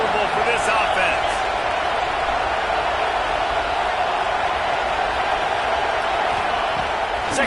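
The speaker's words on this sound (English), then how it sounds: "This crowd trying to make life miserable for this offense." A Clemson football stadium crowd roars as a steady, loud wash of noise, filling the whole stretch without letup and briefly peaking near the start.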